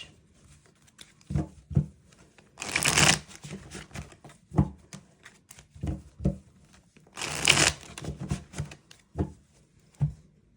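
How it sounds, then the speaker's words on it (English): Tarot cards are shuffled in two quick riffle bursts with softer handling taps and slides between, close and alone with no talk. "You shuffle these real quick, Sag."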